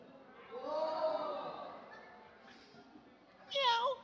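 Voices imitate a cat's meow during a Bible lesson, giving two drawn-out, sliding meows: a longer one first, then a shorter, higher one after a pause, both close and clear.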